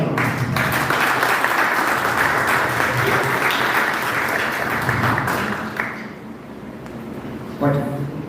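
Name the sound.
audience applause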